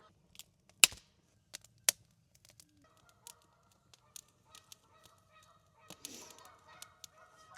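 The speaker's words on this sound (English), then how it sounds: "Those geese are going crazy." Geese honk repeatedly in scattered bursts at a campground at night, some sharp and close, others fainter, with a quiet background and no talking.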